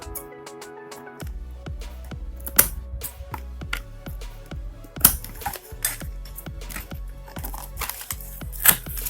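Packing tape peels and rips off the box of a Blue Yeti USB microphone being unboxed, with a string of sharp crackles, tearing bursts and thumps close up.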